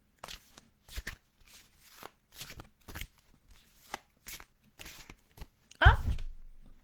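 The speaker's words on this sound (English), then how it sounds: "let us shuffle the cards and see who is going to drop by" Oracle cards shuffled by hand in a series of short papery riffling bursts, roughly one each half second, ending in a louder slap as a card drops out; speech is also present.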